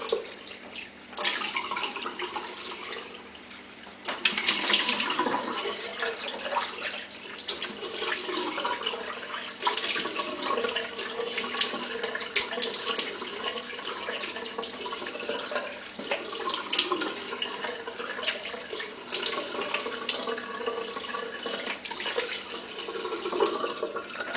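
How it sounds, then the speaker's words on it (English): Tap water runs steadily into a sink for rinsing during a shave, a continuous close splashing stream that swells louder around the fifth second and keeps flowing for the whole stretch with small drips and sloshes. "So on that end, let me rinse."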